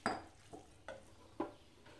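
A spoon stirs boiled urad dal and rajma into masala in a pan, with four or five soft, separate scraping strokes, quiet and close, and no talk.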